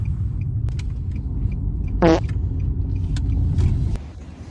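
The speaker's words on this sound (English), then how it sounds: "I'm about to make a U-turn right now" A car drives along and makes a U-turn, a steady low engine and road rumble running throughout with a brief faint rattle and no talking.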